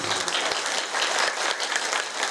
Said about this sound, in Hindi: जोर से ऐसे ताली बजा दो ना